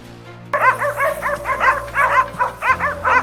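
Hunting dogs bark rapidly and repeatedly during a wild boar hunt, loud and close, with a steady string of yips and bow-wows over a low engine drone.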